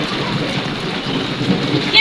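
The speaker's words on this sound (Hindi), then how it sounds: "हमारे तो शहर में शुक्र है जी अल्लाह का, बारिश हो रही है।" Steady rain pours down with a dense, even hiss and patter on surfaces, continuous throughout, with no voices.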